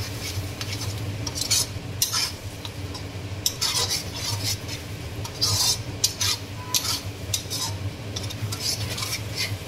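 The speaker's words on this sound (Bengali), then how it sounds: "আবার ভালো করে একটু কষিয়ে নেব" Mutton curry with ginger garlic paste being stir-fried in a pan, a spatula scraping and stirring in irregular bursts over a steady low sizzle, close and moderately loud with no voices.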